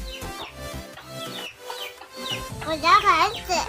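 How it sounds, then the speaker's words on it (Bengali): Chickens cluck and squawk in short bursts while being fed cooked rice, the calls growing busier and louder toward the end. "মুরগিগুলো চলে আসছে"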